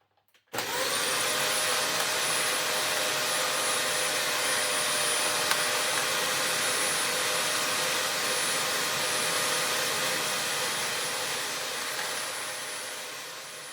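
A vacuum cleaner with a patterned brush roll switches on after a brief silence. It runs as a loud, steady whining roar with a high tone, easing slightly toward the end.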